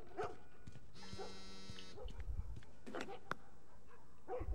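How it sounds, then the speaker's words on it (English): A dog in The Last of Us video game gives a few short barks and whimpers, spaced apart, with a sustained tonal game sound in between and brief background noises. "so is that my dog?"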